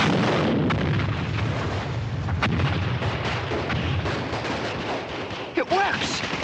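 Soldiers fire on targets near a rock, a dense, continuous wash of gunfire and distant explosive rumble filling the whole stretch at close, steady loudness, with a few sharper cracks standing out.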